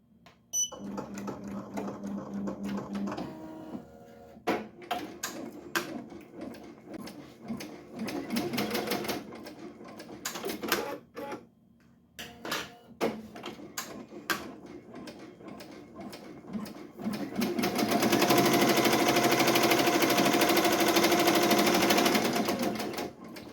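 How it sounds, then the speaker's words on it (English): An embroidery machine stitches a traced split design, a rapid mechanical clatter of needle strokes that starts and stops in bursts, then settles into a loud, dense, continuous run near the end, with no talking. "The embroidery is gonna take a little while to do to finish this part."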